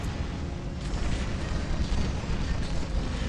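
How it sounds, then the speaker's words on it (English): Dense, continuous roar of shotgun fire and explosions from War Robots mech combat, a steady wall of booming, crackling blasts with no pauses and no voices. "The firepower of these shotguns is just out of control."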